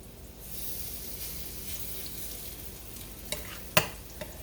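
Potato patties fry in a skillet with a constant close hiss of hot oil, then a couple of sharp spatula clacks and scrapes near the end.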